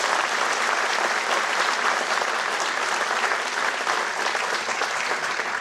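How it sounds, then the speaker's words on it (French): Sustained audience applause at a New Year's greetings ceremony, dense and steady clapping from a large crowd filling the room at even loudness throughout, with no talk over it. "merci d'applaudir les itinérantes."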